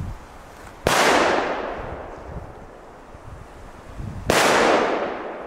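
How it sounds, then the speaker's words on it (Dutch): Red Mascletà firecrackers set off nearby in Belgium give two loud, sharp blasts a few seconds apart, each followed by a long rolling echo that fades out, with wind rumbling in between. "Maar ook deze rode, die Mascleta knallers,"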